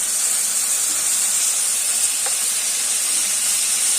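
Tomato goes onto peppers frying in a pan in a village kitchen, giving a steady, loud sizzling hiss that holds evenly throughout with no talk.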